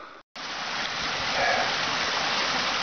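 Water in Davis Creek, a mountain stream on Chico Mountain, rushes with a steady broadband wash and splash after a brief cut near the start, loud and close, with no voices.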